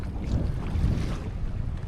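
Strong wind buffeting against open water, a rough low rumble with gusty swells, steady and close throughout.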